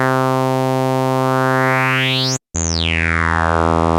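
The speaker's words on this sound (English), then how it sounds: "the shepherd's tone refers to the illusion of just always hearing that rising pitch, like it never ends" A Shepard tone effect in the Pigments 3 software synth: a loud, dense harmonic drone with a bright sweep gliding upward, a brief dropout, then a sweep falling back down, steady and continuous with no voices.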